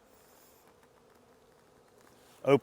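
Honeybees in a hive during a November inspection in Southern Maryland hum as a faint, steady low drone, ending with a sudden loud rustling burst near the close.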